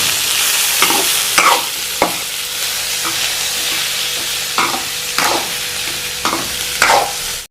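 Nalleru chutney ingredients fry in a pan over a constant sizzle, while a spatula stirs and scrapes in repeated short strokes roughly every half second to second, close and loud with no talking.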